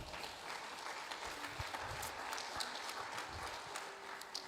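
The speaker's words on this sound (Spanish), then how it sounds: "Ahora sí pueden aplaudir" A church congregation claps during a Spanish-language sermon, a fairly faint, steady patter of many hands spread across the room.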